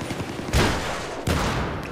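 An M16 rifle fires in Battlefield 3, two sharp, loud gunshot bursts roughly three-quarters of a second apart, each with a short ringing tail over busy game noise.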